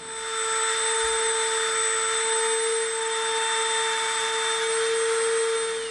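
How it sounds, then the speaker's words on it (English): Dremel rotary tool grinding a trench into EVA foam, a steady high-pitched whine with strong tonal harmonics that holds level and unbroken throughout, close up, with no talking. "we're going to Dremel this trench out"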